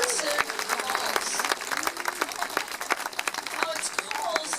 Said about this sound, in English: Let's give them a round of applause for those impressive calls.